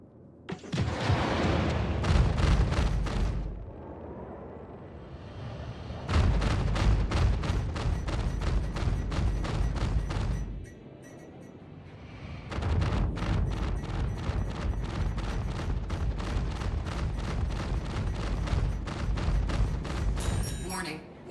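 F8C Lightning ship weapons in the video game Star Citizen fire in long rapid repeating bursts with booming blasts, broken by two short pauses.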